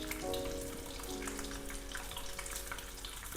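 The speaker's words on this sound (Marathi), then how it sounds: "ते उकडलेले अंडे जे आहेत ना ते आपण हे तेलात टाकून घ्यायचे" Boiled eggs sizzling in hot oil in a pan with a little salt, a soft steady crackle and hiss, close and fairly quiet throughout.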